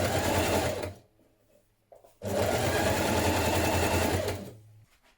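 A sewing machine stitches a double-fold hem on a fitted dress in two loud, steady runs of whirring motor, close by, separated by a short quiet pause, with no talking.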